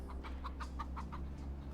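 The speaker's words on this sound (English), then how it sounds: "I hear chickens." Chickens in Vampire: The Masquerade – Bloodlines cluck in a quick series of about eight short, evenly spaced clucks over a steady low game hum.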